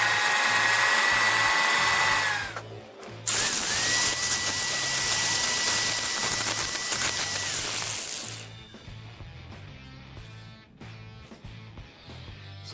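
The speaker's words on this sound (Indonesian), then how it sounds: "untuk meratakan lubangnya, barulah kalian gunakan mata bor besi sesuai dengan ukurannya" A power drill with an iron bit bores holes in steel, sending out a loud, high whining drone that shifts pitch partway through. The whine stops abruptly, leaving a quieter low hum.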